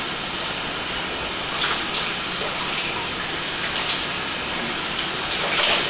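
Water pours steadily into a pan of dissolved sugar syrup during pear wine making, a continuous close splashing gush with no pauses.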